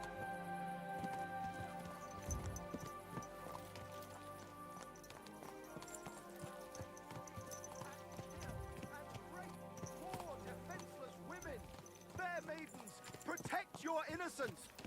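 Horse hooves clip-clopping in the medieval video game Kingdom Come: Deliverance II, steady trotting footfalls under game music and a talking player, with a faint whinny.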